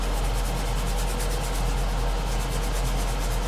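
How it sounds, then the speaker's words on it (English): A cloth rubbed back and forth over a painted model surface to blend a metallic finish, giving a constant close, dense scuffing hiss with a faint regular rhythm and no talk. "Back in with our cloth. I'm just going to give it a bit of a rub so we sort of just blend them all in."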